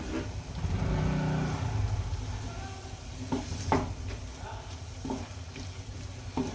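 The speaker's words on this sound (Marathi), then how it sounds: "मसाल्यातून तेल बाहेर निघालं पाहिजे तोपर्यंत आपण मसाले परततो" Thick masala spice paste fries in oil for dhaba-style shahi paneer, a continuous sizzle broken by several sharp scraping strokes of a spoon stirring in the pan.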